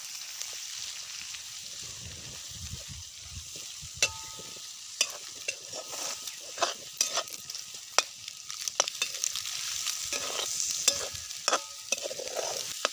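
A honeycomb vegetable dish frying in oil is stirred, with a steady low sizzle under intermittent sharp scrapes and clinks of the spoon against the pan, close by, with no voices.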